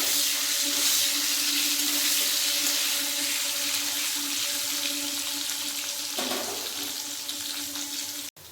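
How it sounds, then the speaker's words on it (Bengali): Potatoes frying in a pan with salt and turmeric for a Bengali bottle gourd dalna. A steady, loud, hissing sizzle runs throughout and cuts off abruptly at the very end. "এর মধ্যে দিয়ে দেবো লবণ হলুদ গুঁড়ো আলুগুলো ভালোভাবে ভেজে নেব"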